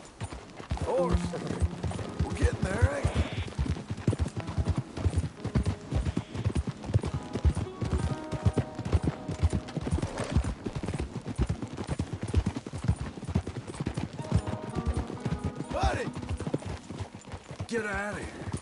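Steady clip-clop of horse hooves throughout in Red Dead Redemption 2, with a brief whinny and music-like tones underneath; a voice speaks occasionally over the trotting.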